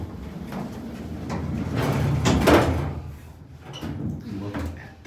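The side door of a vintage Otis hydraulic elevator at a Barnes & Noble in Pittsford, New York slides along its track in a long, rolling rumble that swells to a peak and then fades, followed by quieter clunks.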